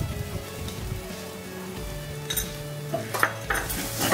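A spice paste with turmeric and salt frying in a pan, a steady close sizzle with a few scraping stirs and light clinks of utensil against the pan.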